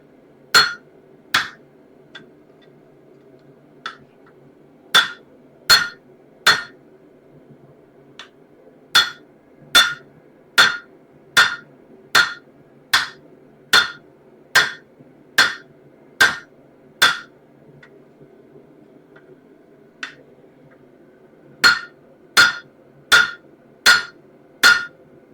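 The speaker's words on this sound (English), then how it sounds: "I need to start hammering right here though, because it's a little bit thick here still." Hammer blows on an axe head over an anvil horn, ringing metallic strikes in quick runs of evenly spaced hits with short pauses between, loud and close over a low background hum.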